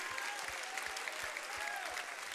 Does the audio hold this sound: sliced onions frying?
no